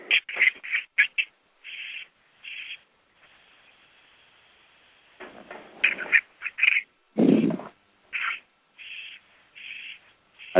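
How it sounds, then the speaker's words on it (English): A duck quacks in a series of short, nasal calls, some spaced and some in quick clusters, sounding thin and clipped as if heard over a phone line, with no talking over it. "I think I'm hearing a bird."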